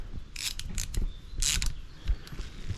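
Quick metallic ratcheting clicks of a socket wrench come in short bursts while it works on a push mower's spark plug. The clicks are close but fairly quiet, with no talking.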